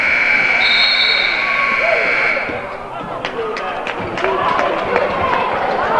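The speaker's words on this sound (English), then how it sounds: "And the buzzer rang." A buzzer blares at halftime of a JV boys basketball game, Peru against NCCS, a loud sustained tone for about two seconds, then cuts to gym crowd noise, sneaker squeaks and brief commentary voices.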